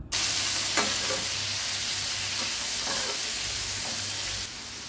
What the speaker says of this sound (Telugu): టమాటాస్ ఫ్రై అవుతున్నప్పుడు